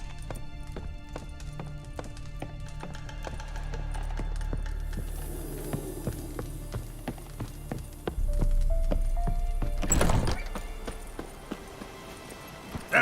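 Roach, a horse in The Witcher 3, trots with steady, clear hoof clip-clops over game music and ambience, with a sharp louder burst near the end.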